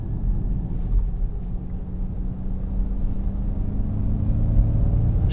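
A Ford Mach-E electric car driving, heard as a steady low road rumble and hum of tyres and motion that builds slightly in loudness toward the end, with no talking.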